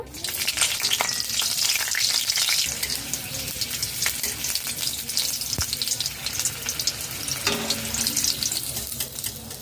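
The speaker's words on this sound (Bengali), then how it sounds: "দু টেবিল চামচ সর্ষের তেল দিয়েছি দুটি লঙ্কা ভেজে নেব" Two chillies sizzle in two tablespoons of hot mustard oil in a kadai, a steady, close crackling fry that runs unbroken throughout.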